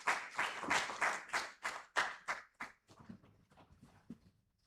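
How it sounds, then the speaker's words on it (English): Applause at a Ugandan national agricultural extension week event as a speaker comes through, heard as a series of distinct, fairly loud claps that thin out and fade into scattered hand claps toward the end. "let's give her a round of applause as she comes through"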